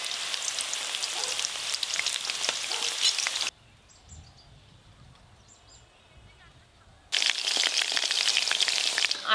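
Chicken pieces sizzle hard in plenty of hot oil for pepper chicken, a loud steady crackling fry that drops away for a few seconds mid-clip and then returns at full strength.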